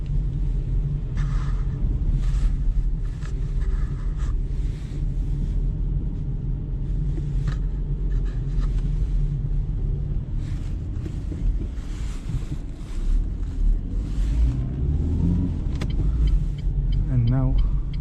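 Inside a Renault Clio driving on a cold day in Brasov, a steady low engine and road rumble fills the cabin throughout, with faint rattles and a few brief higher sounds over it.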